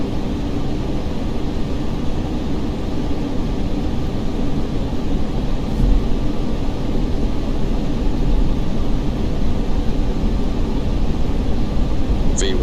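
Concorde at full takeoff power rolling down the runway in a flight simulator, a loud continuous roar of jet engines and rumble that holds steady throughout.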